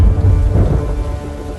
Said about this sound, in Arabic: يكفهر وجه السماء بغتة لترسل فوق هذه المرتفعات شآبيب مندفعة من زخات